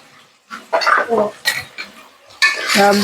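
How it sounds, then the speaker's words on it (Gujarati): Vegetables for green Surti undhiyu are tossed with salt, making bursts of clattering utensil scrapes and clinks against a pot or bowl, close and uneven, separated by short pauses. "બધું શાકને આપણે મિક્સ કરી લેશું"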